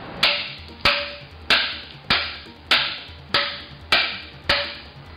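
A 16-ounce hammer strikes a Niner carbon fiber bike fork fitted with a hub, landing seven sharp, evenly spaced blows about every 0.6 seconds, each a bright crack with a short decaying ring, close and loud with no talking.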